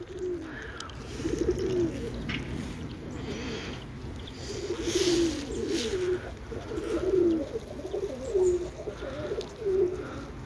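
Tumbler pigeons coo repeatedly in low, throaty, rolling phrases over steady outdoor background noise, the calls recurring every second or two at moderate distance.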